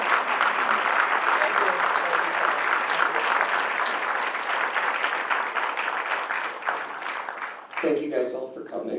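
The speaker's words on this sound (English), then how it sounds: "Let's give Donald maybe just one more round of applause." An audience gives a loud, steady round of applause that lasts several seconds and then fades, after which voices are heard.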